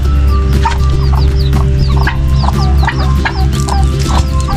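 Chickens cluck and call in a rebuilt backyard coop after a typhoon, with repeated close, loud clucks and chirps over a steady background hum and no talking.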